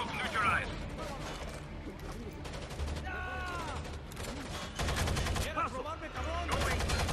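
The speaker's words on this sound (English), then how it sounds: "I shot him in the wrist" Video game gunfire from Rainbow Six Vegas on a trainyard map: loud bursts of automatic fire and shots recur through a busy game soundscape, with people talking over much of it.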